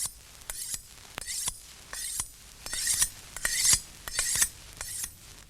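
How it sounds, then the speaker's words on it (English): A knife being sharpened, rhythmic rasping strokes of steel, about eight crisp swipes in pairs, close and clear with no voices. "Sharpening a knife?"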